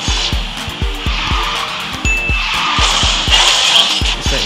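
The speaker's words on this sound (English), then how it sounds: "Even when I do snap, actually because that is a snap, the snap drift now" Car tires squealing through a snap drift in the Garena Speed Drifters racing game, a sustained screech over a steady engine drone, with a rhythmic thumping beat of game music underneath throughout.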